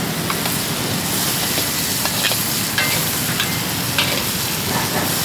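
Chicken stir-frying with green onion in a hot pan gives a dense, steady sizzle, close and loud, with faint scrapes as the pieces are tossed around.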